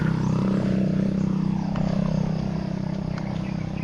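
A motorcycle passes along a roadside near houses, its engine a loud, steady buzzing drone that fades slightly as it moves away over a few seconds.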